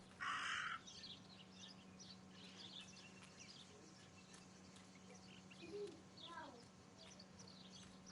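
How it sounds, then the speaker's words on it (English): Raven caws sounding faint and somewhat distant through a low steady hum, a few scattered calls, with voices talking over parts of them. "That raven is making a big fuss."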